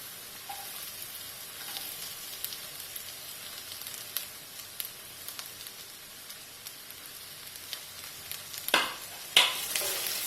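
Garlic and ginger sautéing in a pan for Kerala-style chicken roast, a faint steady sizzle with a few light taps, then louder stirring scrapes near the end, no voices.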